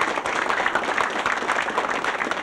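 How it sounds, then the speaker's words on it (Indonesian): Studio audience applause on an Indonesian TV family game show, a steady dense wash of clapping at moderate distance with no gaps. "Tepuk tangan."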